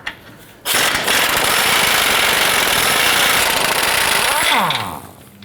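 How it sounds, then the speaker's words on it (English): An impact-style power tool with a 19mm socket runs loud and steady for about four seconds, removing the lower control arm bushing bolts on a 2009-2015 Honda Pilot, then winds down at the end. "Let's go ahead and use our 19mm socket and remove these two bolts here holding our lower"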